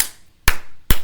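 Three crisp, close hand claps land in quick even succession, taking the place of sung letters in the Bingo children's song.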